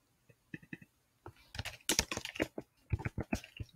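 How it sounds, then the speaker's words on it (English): A computer keyboard is typed on while a quote is entered in Canva, with a few sparse taps followed by a denser burst of close, crisp keystrokes and no talking. "So right here, let's type a quote."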